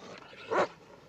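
A dog on a Marine Corps training post gives a single sharp bark midway through, close and fairly loud against a quiet background.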